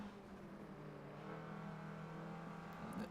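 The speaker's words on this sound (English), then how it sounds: "This car sounds cool. I can hear a turbo." A turbocharged car engine in Forza Motorsport 7, a steady, fairly quiet droning hum at constant revs throughout, with a slight swell near the end.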